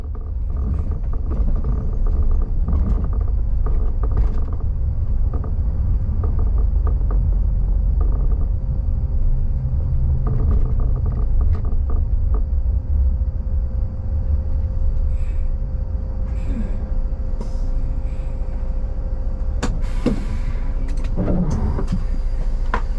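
Rail-replacement coach turning into a station car park, a steady low engine rumble with rattles and clunks from the cabin, ending in a few sharp clicks and knocks.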